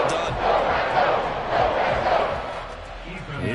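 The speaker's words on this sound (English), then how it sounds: "How about some applause for the defense there?" A stadium crowd at an American football game cheers and applauds in a broad, sustained roar that swells and eases, loud and somewhat distant, with no voice over it.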